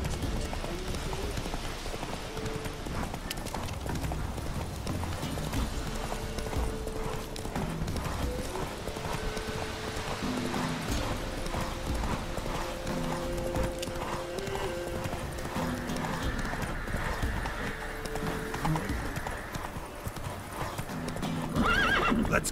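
Roach, Geralt's horse in The Witcher 3: Wild Hunt, gallops with continuous, close hoofbeats and snorts or whinnies over game music, with little speech throughout.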